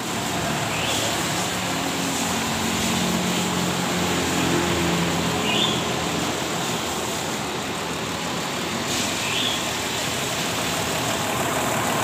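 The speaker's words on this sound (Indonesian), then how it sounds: "Mesin masih sangat halus," A 1981 Toyota FJ40 Hardtop petrol 4x4 engine idles steadily and smoothly up close, a constant low rumble with no revving and no talk.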